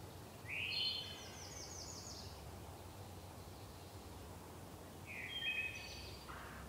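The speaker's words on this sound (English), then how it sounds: "This is the hermit thrush or the wood thrush." Wood thrush singing in a sacred grove: two short, flute-like song phrases a few seconds apart, moderately near, over a steady low background hum with no talking.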